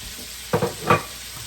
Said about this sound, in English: And give that a stir, and then place our shrimp